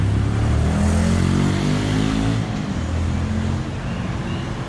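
A Mercedes-Benz W210 saloon rolls in close by, its engine a loud, steady low rumble that eases slightly as it slows, with no talking.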